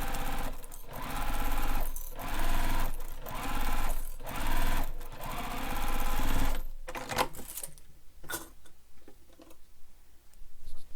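A sewing machine bastes a bag's exterior and lining together, running in several steady rhythmic bursts with brief pauses, then stopping and giving way to quieter handling clicks and rustles.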